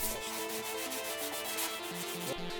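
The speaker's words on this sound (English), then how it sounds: "And sand them again" Steady rubbing hiss of sanding filler-coated parts for a motion racing simulator prototype, continuous and close, with background music playing underneath.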